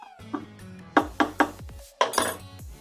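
A spoon knocks and scrapes against a cooking pot of simmering seviyan, several sharp metallic clinks in irregular bursts, close and clear with no talk.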